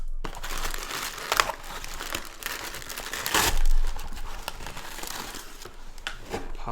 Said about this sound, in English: looks like it's wrapped up in a lot of different just like paper